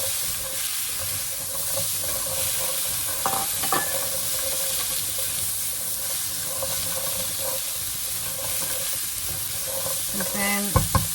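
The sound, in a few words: onions cooking in pan without oil for chutney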